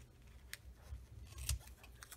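Scissors snipping washi tape, a couple of faint, close cuts on a quiet tabletop, with soft handling noise in between.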